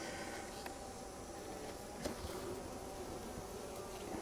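Honeybees in an opened hive during a frame inspection, a steady faint buzzing drone that holds evenly throughout with no voices.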